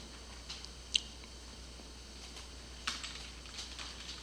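Typing on a computer keyboard while writing JSP code, faint scattered key taps and a couple of sharper clicks over a steady background hiss, with no voices.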